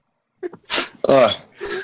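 A cartoon courtroom sneeze, loud and close: a short breathy intake followed by a sharp burst, with a brief voiced tail afterward.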